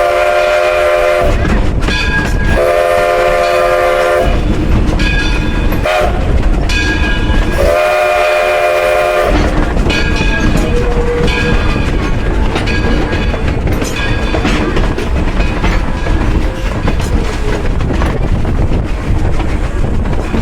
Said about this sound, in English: The engine pulling us today is our 1932 Edison.